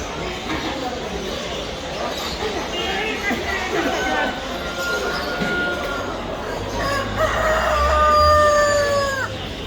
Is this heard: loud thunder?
no